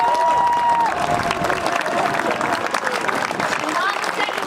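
Outdoor crowd applause for student athletes at an athletic field dedication, steady dense clapping with cheering mixed in, filling the whole stretch at an even, fairly loud level.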